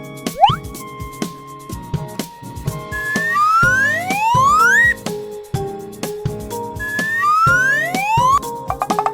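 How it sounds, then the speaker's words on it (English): An ambulance siren sounds in repeated rising sweeps, interspersed with short plinking and knocking hits, fairly loud and close with no talk. "Ambulance."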